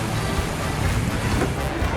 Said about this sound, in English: It has side thrusters on it, which squirts water sideways.